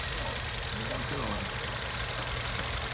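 A new Hyundai i30 1.4 petrol engine idles under an open bonnet, a steady mid-range hum with a faint regular knocking pulse, close and continuous.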